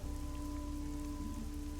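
Steady rain pours down in a video game, a dense continuous hiss with a low droning tone running beneath it throughout, with no voices over it.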